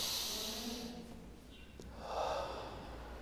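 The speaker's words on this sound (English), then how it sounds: "Now, breathe in deeply." Deep breathing, with a long audible inhale followed by a soft, airy exhale, close and alone.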